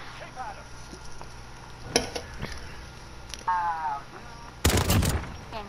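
Sharp gunfire bursts in a video game gunfight among wooden crates, a couple of quick cracks early, then a louder close volley near the end, over a quiet background with faint game noise.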